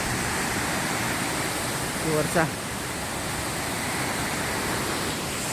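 Domzira waterfall in Jawhar, a waterfall that flows all year, gives a steady, broad roar of rushing water, with one brief voice rising over it partway through.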